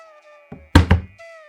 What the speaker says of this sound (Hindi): हमेशा की तरह जंगल में लकड़ी काट रहा था